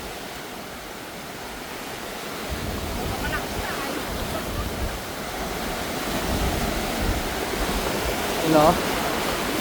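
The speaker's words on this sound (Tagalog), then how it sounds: "Lakas na laki ng alon." Strong ocean waves surge onto a Boracay beach in a steady, loud roar of surf with wind buffeting the microphone, building toward the end while people talk briefly nearby.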